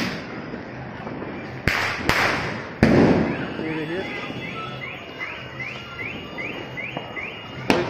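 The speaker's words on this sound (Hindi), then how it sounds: "ये देखिए दोस्तों, आवाज़ सुनिए पटाखों की" Several sharp Diwali firecracker bangs crack out in quick succession early on, then a rapid string of fainter pops and crackles; a voice talks over it.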